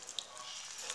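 Tomato paste sauce for Lebanese stuffed zucchini (kousa mahshi) is stirred, making a faint, brief, soft sizzling and stirring hiss, with no voice over it.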